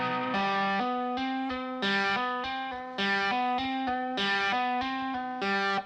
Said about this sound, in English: I've got my distortion kind of low right now